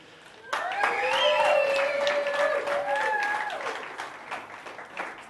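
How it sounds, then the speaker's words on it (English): An audience at a church talk bursts into steady applause that swells and then slowly thins, with voices and cheers mixed into the clapping. "Can we give Bongani a big round of applause?"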